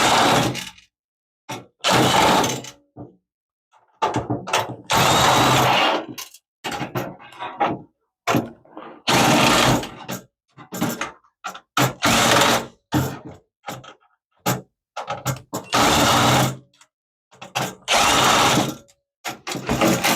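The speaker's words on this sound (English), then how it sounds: "let's get the motherboard out. A couple of screws, I'm sure." Power screwdriver whirring in repeated short bursts, about eight times, as it backs screws out of the motherboard inside a Dell Inspiron 3847 desktop, with close mechanical ratcheting between runs and no talk.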